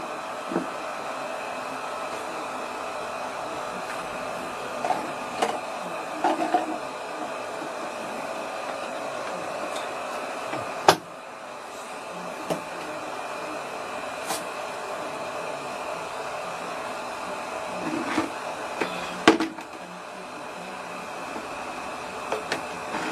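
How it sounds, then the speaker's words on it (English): A steady whooshing drone like a hair dryer blowing runs throughout, with scattered small clicks and one sharp tap near the middle. "The only reason I'm using a dryer is for you."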